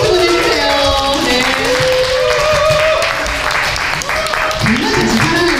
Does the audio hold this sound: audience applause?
yes